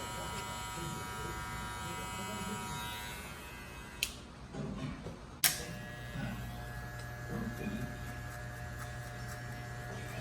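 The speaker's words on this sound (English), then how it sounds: "Now he's got his clipper all the way closed, trying to take out that bottom bald line." Hair clippers buzz steadily in a barbershop while cutting a drop fade, a close constant electric hum with a short break partway through, with faint background sound around it.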